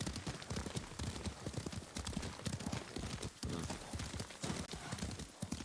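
Horse hooves clip-clop steadily in Ghost of Tsushima as a rider travels on horseback, a dense, continuous patter of close hoof beats with a faint whinny-like tone and a voice talking over it.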